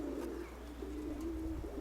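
A pigeon cooing in a steady, low, throaty warble, close and fairly quiet over a faint background hum.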